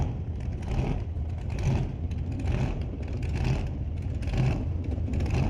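A Camaro drag car at an old-time drag racing event runs with a loud, continuous engine roar and rumble, swelling in several pulses as it passes, with no talk over it.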